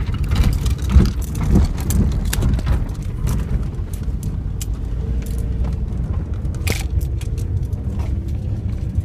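A car drives a dense forest road near Bharmour in Chamba, Himachal Pradesh, with a close, steady engine and tire rumble broken by frequent sharp rattles and knocks.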